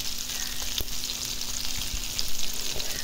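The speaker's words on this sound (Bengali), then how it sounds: "দেখুন আমার মাছটা ভাজা হয়ে গেল" Sea fish fries in a pan on a stove, a steady close sizzle with light crackles and a few scraping stirs, no voices.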